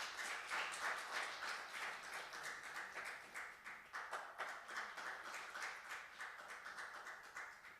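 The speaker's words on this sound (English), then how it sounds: "big applause" Audience applause at a maritime institute seminar in Korea: dense, steady clapping from a crowd that holds at a fairly even level throughout, with no talk over it.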